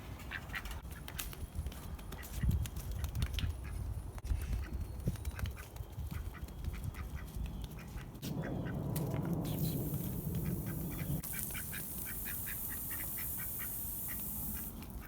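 Ducks quack around a newly built chicken and duck coop, repeated rough calls scattered over about fifteen seconds amid outdoor background noise, fairly faint and mid-distance.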